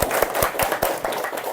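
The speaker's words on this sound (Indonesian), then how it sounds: "Tepuk tangan untuk kita semua." Schoolchildren in a classroom clap together in a quick, slightly ragged rhythm, about eight sharp claps close by over a brief burst, with faint background noise.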